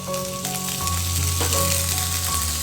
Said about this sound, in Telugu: అది ముద్ద ఇందులో వేసేసుకోవాలి